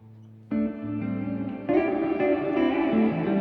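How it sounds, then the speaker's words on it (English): Guitar played through a Walrus Audio pedal set to a cloud-like delay and reverb: a soft tone, then swelling, shimmering layers that build and sustain in a dense wash without any voices. "Very cloud-like delay, or very cloud-like reverb."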